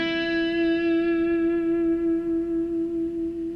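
An electric guitar plays a blues melody phrase: one clear sustained bent note rings out loud and close, its bright overtones slowly fading over a few seconds, with no talking.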